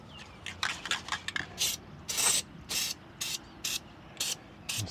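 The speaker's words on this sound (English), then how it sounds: "Spray some grease in here." An aerosol can sprays grease onto a Peterbilt 389 truck's rear bushing assembly in short hissing bursts, about a dozen quick spurts in an uneven rhythm, close up in a quiet shop.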